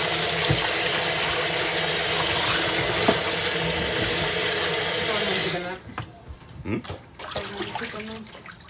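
Water runs strongly from a kitchen tap while red beans are washed, a loud steady gush that stops abruptly partway through, leaving quieter clatter and handling noises.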